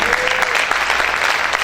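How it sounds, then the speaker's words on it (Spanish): A congregation claps loudly and steadily at a fasting church service, a dense continuous wash of hands filling the room, with a voice faintly audible beneath it. "¿Cuántos pueden aplaudir fuerte al Señor?"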